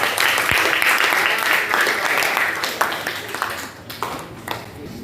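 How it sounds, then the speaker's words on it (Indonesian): Applause from students in a chemistry classroom, a dense burst of clapping that fills the room and thins toward the end, with a voice talking faintly underneath. "tepuk tangan untuk si Raka"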